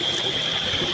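Steady, even rush of flowing river water from the Aare, continuous and fairly loud for the whole second with no voices over it.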